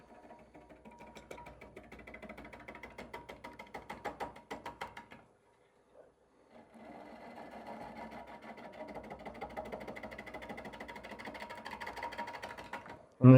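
Wood lathe spinning near 400 RPM while a gouge makes a pull cut, roughing out an uneven bowl blank; steady rattling cutting noise, a pause with near silence, then continuous cutting resumes, fairly close.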